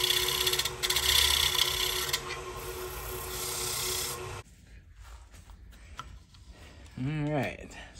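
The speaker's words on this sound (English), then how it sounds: "I'm gonna just come in here and shape the rim a little." A gouge shapes the rim of a wooden bowl on a lathe, giving a loud, steady scraping rasp for about four seconds before it cuts out, followed by quieter shop noise and a voice speaking.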